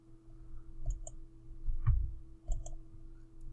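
A computer mouse clicks several times in quick pairs and singles, crisp close taps over a faint steady electrical hum, with no talking.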